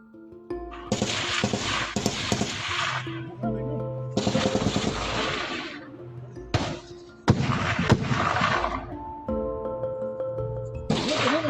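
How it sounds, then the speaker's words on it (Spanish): Bursts of loud, crackling gunfire come in several rapid volleys, separated by short pauses, with a voice speaking over them. "grabó mientras escuchaban los estruendos de los disparos"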